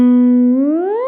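A Fractal whammy pitch-shift effect set from a fifth below to an octave above holds a steady guitar tone, then bends it smoothly upward in one short, loud, close glide without any voice.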